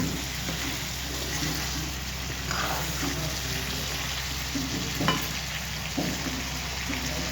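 Vegetable curry frying in a pan gives a steady close sizzle, with a few brief clatters and stirring sounds and a constant background hum.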